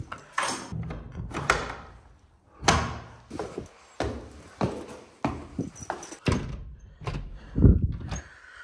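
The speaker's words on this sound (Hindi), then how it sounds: "जल्दी से आके फटाफट आके दरवाजा खोल दो जल्दी से" A door at home is worked open with a series of sharp bangs, thuds and knocks at an irregular rhythm, heard close and fairly loud with no talking.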